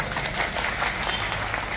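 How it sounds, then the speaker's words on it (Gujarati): A crowd at a political rally applauds in a short, dense wash of clapping that stays steady and moderately loud throughout. "ગમે હોય તો પાડો તાળીઓ બધા"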